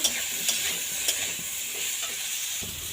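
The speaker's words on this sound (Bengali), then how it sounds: "নাড়ানাড়ি করে কেটে রাখা আলু দিয়ে দেব। এবার একটু নাড়ানাড়ি করে নেব।" Chopped potatoes frying in a pan are stirred, giving a steady close sizzle with a few scraping stirs near the start, about one each half second, and no talking.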